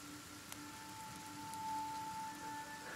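Steady, quiet rain patters softly in the Kenshi video game world, an even hiss of acid rain with a faint tonal hum behind it and no voices.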